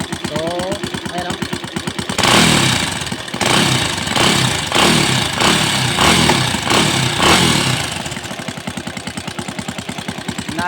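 A Yamaha Vega Force 180cc motorcycle engine roars close and loud for several seconds in rhythmic revving pulses, with someone talking before and after it.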